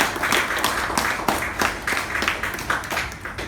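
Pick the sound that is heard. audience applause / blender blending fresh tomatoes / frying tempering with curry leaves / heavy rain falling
audience applause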